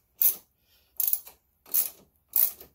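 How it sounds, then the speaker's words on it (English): Bolts are being removed from a Can-Am Ryker. They give four short, evenly spaced ratcheting clicks close by in otherwise quiet surroundings. "We're going to remove both these bolts."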